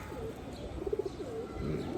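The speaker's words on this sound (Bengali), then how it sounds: "এটা আসলে বাঘা কবুতরই" A Bagha pigeon gives a few low, throaty coos close by in a quiet loft, the calls rising and falling in short bursts.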